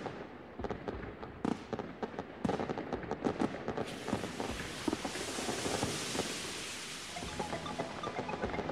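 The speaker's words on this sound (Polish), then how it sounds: "popatrz, jaka wspaniała kaskada tych purpurowych fajerwerków" Fireworks burst at a New Year's Eve ball, a rapid run of sharp cracks and pops followed by a loud sustained crackling cascade that slowly fades.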